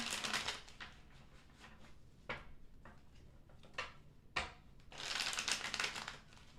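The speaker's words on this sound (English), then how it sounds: "2 more shuffles for Pisces energy." Tarot cards being shuffled by hand in a quiet room, a run of soft, papery riffles and crisp flicks with brief pauses between bursts, fairly close and low in level, with no talking over it.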